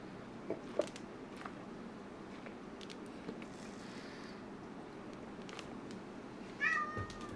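A cat gives a single short, faint meow near the end, over a quiet indoor background with a few small knocks and rustles.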